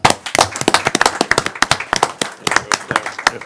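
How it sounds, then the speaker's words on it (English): At a school board of trustees meeting, a small, thin scattering of hand claps rings out, distinct individual claps rather than a full roar, sustained for a few seconds. "The applause is not as loud."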